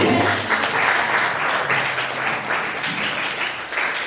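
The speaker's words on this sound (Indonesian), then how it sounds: "beri tepuk tangan yang meriah" A classroom of ninth-grade students applauds a group's answer during a civics lesson, a steady wash of many hands clapping together for about four seconds with faint voices mixed in.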